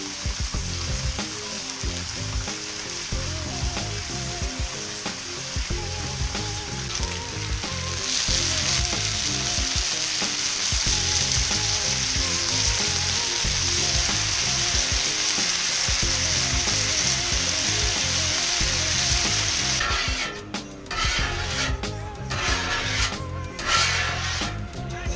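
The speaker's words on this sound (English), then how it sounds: "Cooking up some thick bacon on the Blackstone." Thick bacon sizzles and crackles steadily on a Blackstone griddle, a dense continuous frying hiss with occasional scraping, close and fairly loud throughout with no talking.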